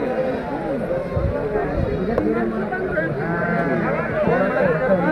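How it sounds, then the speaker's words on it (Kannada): Sheep bleat now and then through steady crowd chatter at an open-air sheep and ram market, close and fairly loud, with people talking throughout. "ಆಡಿಲ್ಲ, ಬರೀ ಕುರಿ ಟಗರು ಅಷ್ಟೇ."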